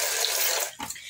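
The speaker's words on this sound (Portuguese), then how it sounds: "Vou botar mais um cabito de água." Water runs steadily from a kitchen tap into a soup pot, a bright continuous rushing pour that cuts off near the end with a few splashes and drips.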